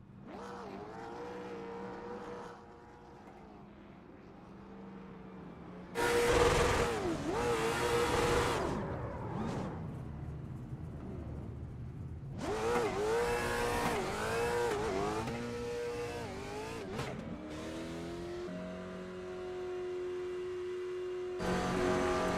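A number 22 stock car doing a celebration burnout at North Wilkesboro Speedway, engine revving in loud bursts with roaring rises and falls and tire squeal, alternating with quieter idling gaps between bursts, no talk.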